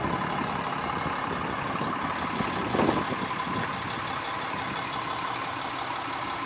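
A 2016 Ram 2500 Laramie Mega Cab pickup with the 6.7 Cummins diesel idles nearby, a steady, even rumble that holds constant for several seconds with one brief bump in loudness.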